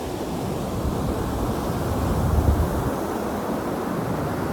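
Strong wind roars across an ocean shore with surf washing in underneath, a steady loud broadband rush with a gentle swell midway and no talk.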